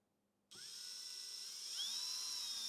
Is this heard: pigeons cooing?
no